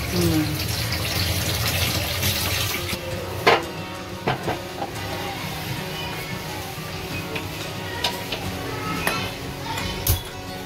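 Water runs steadily from a tap into a metal pot for boiling, with occasional clinks of the pot in a kitchen, and a few sharp taps punctuate the flow.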